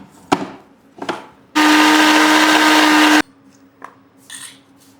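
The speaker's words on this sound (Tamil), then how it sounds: "அப்படியே நம்மளும் வெங்காயம் தக்காளி எல்லாம் கீழே போட்டு ஒரு அரை வரைச்சிடலாம்." A mixer grinder whirs loud and steady for under two seconds while blending onion and tomato into tomato chutney in a village kitchen, set between a few light clinks and knocks.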